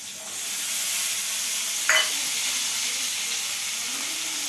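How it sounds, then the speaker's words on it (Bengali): Potatoes frying in oil in a pan, a steady broad sizzle running throughout at moderate loudness, with one brief sharper crackle or scrape near the middle and no talking. "আলুটাও আমি এর মধ্যে দিয়ে দিচ্ছি, সব একসাথে ভাজা হবে।"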